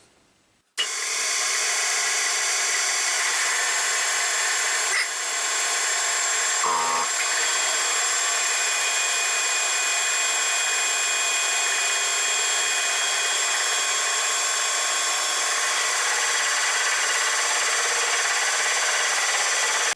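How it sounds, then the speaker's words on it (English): A small Celtic 14 metal lathe takes a roughing cut on a steel pin from a digging machine, a steady, loud, continuous whine with high tonal ringing and rubbing that runs unbroken for nearly the whole stretch after a brief quiet start. "let's see if the little lathe wants to cut it or not"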